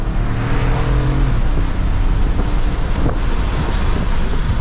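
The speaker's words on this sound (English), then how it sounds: "So let's go ahead, get the new Mini Cooper out on the road" 2023 Mini Cooper Convertible driving with the top down in sport mode from second gear, a loud steady rush of wind buffeting mixed with engine drone, which climbs in pitch early before settling.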